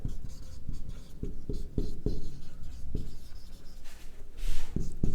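Chalk or marker writing on a board during a biology lesson, a series of sharp scratchy strokes and taps coming in irregular bursts, close and fairly loud, with no talking over it.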